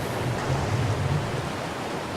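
Continuous rushing water in Ark Survival Mobile, an even, fairly loud broadband wash with a faint low rumble, heard alone without speech.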